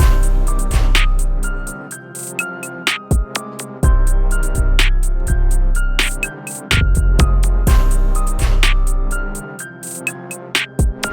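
A punchy hip hop beat with booming 808 bass hits, crisp hi-hats and snare, and conga-like percussion layered over a sustained melodic loop, loud and steady.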